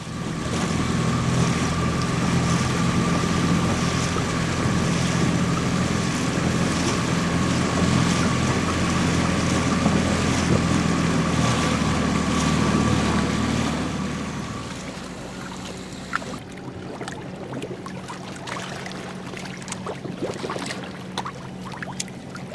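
A dinghy motoring across open water toward Avalon on Catalina Island, with a steady engine drone, wind and slapping waves that cut off abruptly partway through, leaving quieter lapping water and faint clatter.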